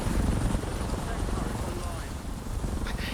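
A helicopter in the video game Warzone drones with a steady rotor rumble, loud and continuous, while people talk over it.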